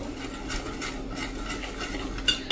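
A spoon stirs Kashmiri red chili powder, coriander-cumin powder and garam masala together in a pan for a parwal curry, producing soft, repeated scraping and rubbing strokes, close and steady, ending with a light metallic clink.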